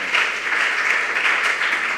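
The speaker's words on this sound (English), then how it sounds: "Give yourselves a round of applause." Students at a school quiz semifinal break into sustained applause, a bright, steady wash of many hands clapping close and loud without a pause.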